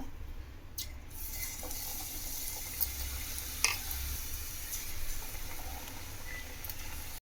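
Raw banana bajji dipped in batter frying in hot oil, a quiet continuous sizzle with faint bubbling and a few small clinks, steady for several seconds before cutting off abruptly.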